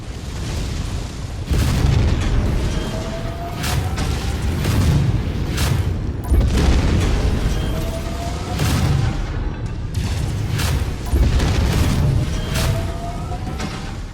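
A Hunchback mech in MechWarrior 5 fires its AC-20 autocannon in repeated heavy booming blasts, roughly every one to two seconds, loud and close over constant rumbling battle noise.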